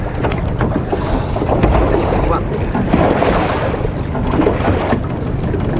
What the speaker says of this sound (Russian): вот мотор на холостом идет